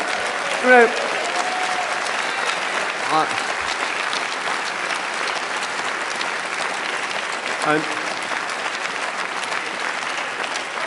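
Sustained audience applause fills a party conference hall, steady and even for the whole stretch, with faint voices audible beneath the clapping.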